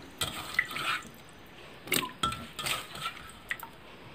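Pickled wild bamboo shoots and freshwater fish going into a pot of southern Thai sour curry broth before it boils, giving a few soft splashes, drips and clinks of utensils against the pot, close and fairly quiet.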